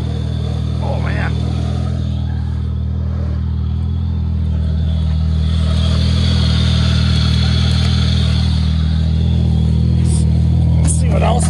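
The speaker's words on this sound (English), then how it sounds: "We're pulling the truck sideways." A truck engine revs steadily as the vehicle is pulled sideways through snow, a loud continuous low drone that swells slightly midway, with brief voices and clatters breaking in near the start and end.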